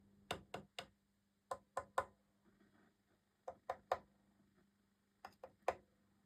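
A phone gives off quiet, sharp ticks in small clusters of two or three, with pauses between groups, over a faint steady hum from a 1966 Fender Bandmaster amplifier.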